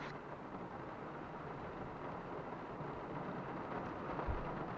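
Rain falls steadily outdoors, a constant, even wash of hiss at moderate level with a soft low rumble and a single dull thump near the end, no speech.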